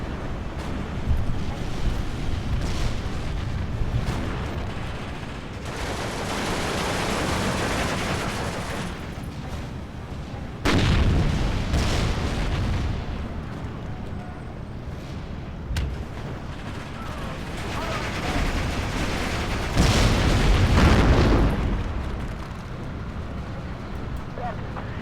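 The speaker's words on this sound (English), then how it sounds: "that Katyusha fire is not going to make things easy" Katyusha rocket artillery fire in the World War II strategy game Steel Division 2: long, heavy rumbling salvos of rockets and blasts rolling in repeated waves, loud and dense, with a voice talking over the barrage.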